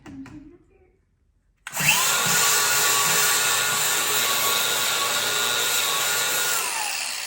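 A power tool strips rust from a Jeep, starting abruptly after a brief quiet moment and then running as a loud, continuous high whine with a steady grinding roar, close up; a little talk comes before it starts.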